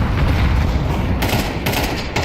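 Dense burst of in-game gunfire and explosive blasts from a multiplayer shooter, loud and continuous throughout with sharp crackling bursts, as an incendiary grenade is thrown amid the fight.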